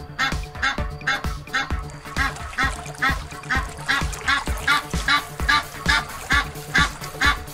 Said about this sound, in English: Goose. Goose.